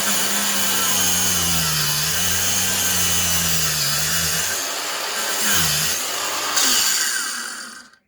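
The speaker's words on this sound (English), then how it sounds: "the first tool we're going to use is our angle grinder, and we're going to make the initial cut down that line there" An angle grinder cutting into a block of Spam, a loud close motor whine that holds steady and dips as the disc bites, rising briefly near the end before spinning down to silence.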